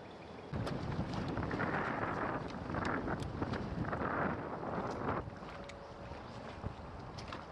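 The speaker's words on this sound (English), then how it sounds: "this is a pretty good wind going. 30 miles an hour is nothing to scoff at" Strong wind of about 30 miles an hour sweeps across a lake during spring bass fishing, with loud, rushing gusts buffeting the microphone from half a second on before easing slightly near the end.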